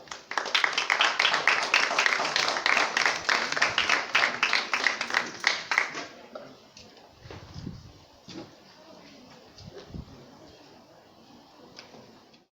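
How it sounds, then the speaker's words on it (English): A film screening audience at the Goethe Institut claps loudly and densely for about six seconds, then the applause thins to scattered claps and faint room noise. "A round of applause for Toby Christopher"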